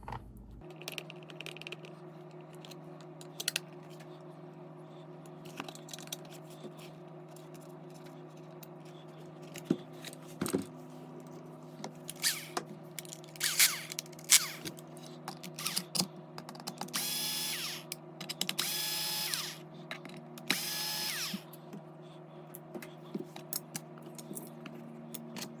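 Screws being removed from the side panel of an Arrma Mojave RC car with a small power driver: short whirring bursts and clicking, ratcheting taps over a quiet background, close by.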